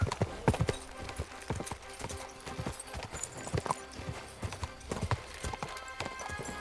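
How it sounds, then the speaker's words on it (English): Horse hooves clip-clop at a slow, steady walk in the video game Kingdom Come: Deliverance 2, a rhythmic series of close hoof strikes on firm ground. "Quiet now, horsey. I'll take you back to Yezhak"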